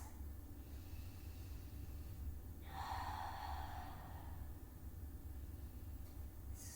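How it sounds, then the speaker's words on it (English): A single deep belly breath during a gentle all-levels yoga stretch, a soft, drawn-out exhale rising faintly above a low steady background hum. "And deep breaths here. Big, deep belly breaths."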